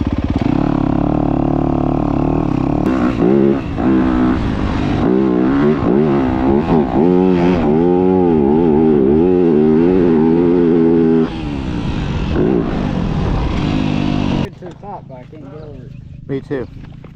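A dirt bike engine revs and winds up and down on a motocross track, loud and close, with speech at points and the engine falling away toward the end.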